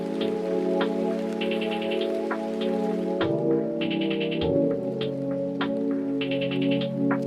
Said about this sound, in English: add some rain sound effect